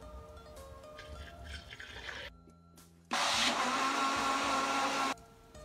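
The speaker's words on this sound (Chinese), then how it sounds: "放在打浆机里面打成米糊" A blender grinds soaked glutinous rice and water into a smooth rice paste, a loud steady whirring roar for about two seconds after quieter motor hum and a brief pause, then dropping back to low hum.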